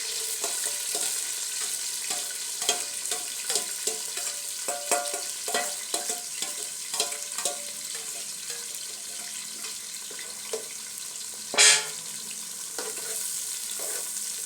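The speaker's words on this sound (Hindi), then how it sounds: "ऑयल तकरीबन गर्म हो गया। डालेंगे प्याज, इसको भी हमने छोटे साइज में काटें।" Small-cut chopped onions sizzle and crackle in hot oil in a pan for a hotel-style beef aloo keema, a steady close fry with scattered pops and a brief louder hiss near the end.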